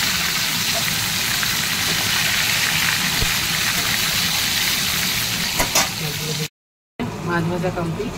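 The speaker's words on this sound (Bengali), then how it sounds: "মাছ ভাজা কমপ্লিট।" Surmai fish frying in hot oil, a dense, loud crackling sizzle that runs almost the whole time before a brief cut, with a voice talking over it.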